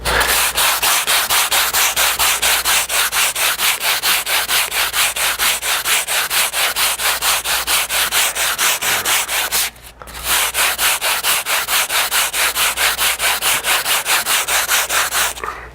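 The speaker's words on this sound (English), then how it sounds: "You're going to just put some sticky back sandpaper on there and sand" Sticky-back sandpaper rubbed back and forth over a curved wooden molding contour, a loud steady rhythmic scratching of quick even strokes that pauses briefly partway through before resuming.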